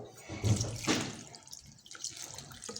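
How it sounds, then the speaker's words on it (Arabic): Water poured over a chamomile mixture for a homemade hair remedy, a close splashing pour that fades into light trickling and drips. "دابا غادي ندير عليه الماء ونعمر عليه حتى يغبر بالماء"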